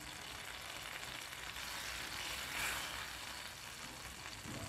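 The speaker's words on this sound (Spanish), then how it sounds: "Aquí en este sartén ya tengo 40 gramos de mantequilla derritiendo" Forty grams of butter melting in a frying pan over low heat, a steady, soft sizzle and gentle hiss, faint and continuous with a slight swell near the middle, no voices.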